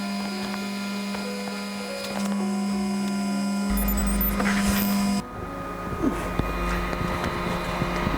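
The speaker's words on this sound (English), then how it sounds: "It should bring the printer head down now to pretty well near touching there." A Flashforge Adventurer 3 3D printer lowers its print head, a steady motor hum and whine that shifts pitch partway through, with soft mechanical clicks and ticks near the end.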